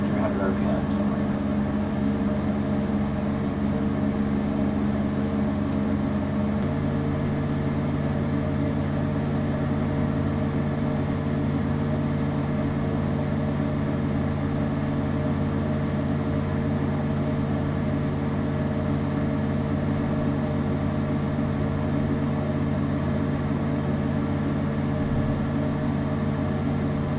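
Simulated light aircraft engine in a Redbird flight simulator holds a steady drone at about 2,300 RPM, a continuous even hum with a constant tone throughout.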